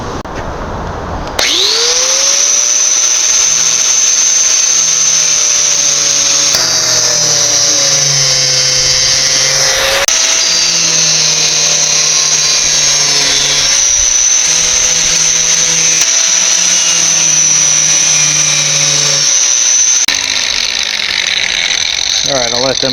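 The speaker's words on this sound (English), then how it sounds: "I'm just going to take my grinding wheel and I'm just going to grind them down" A grinding wheel cuts down protruding screws on a DIY wheelchair ramp, giving a loud, continuous high whine that runs unbroken for nearly twenty seconds. Its pitch dips and rises as the wheel bites into the metal.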